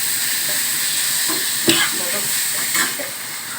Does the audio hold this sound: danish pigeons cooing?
no